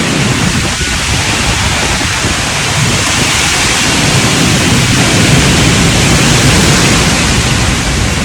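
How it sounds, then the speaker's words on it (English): Hurricane Ida winds and heavy rain in New Orleans, a dense, unbroken roar of wind-driven rain that holds loud and steady throughout with no voices. "high wind, much more rain."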